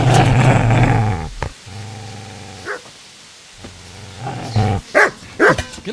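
A dog growls and barks in the medieval role-playing game Kingdom Come: Deliverance, starting with a long, loud rumbling growl, then short sharp barks and yips near the end, with quieter game ambience in between.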